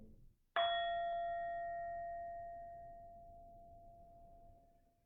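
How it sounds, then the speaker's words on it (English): A small meditation bell is struck once, giving a clear, bright ring whose tone lingers and slowly fades over several seconds in near silence. "As we transition between meditations and sections, you'll hear a small bell tone."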